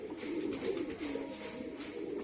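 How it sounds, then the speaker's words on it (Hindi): Pigeons in a loft, among them a large white king-size bird, keep up a soft continuous cooing, low and close, with no speech. "अब ये कबूतर देखिए"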